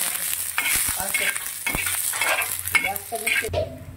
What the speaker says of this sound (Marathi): कांदे टाकले, अद्रक आणि लसूण, तेल टाकले थोडंसं, भाजून घ्यायचं।